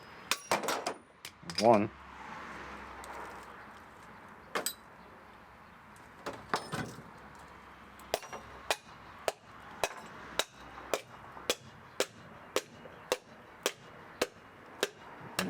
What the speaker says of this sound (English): So we'll give them a little tap, help them out.